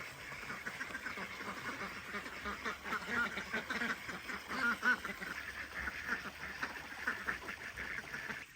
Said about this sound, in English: How you doing, ducklings?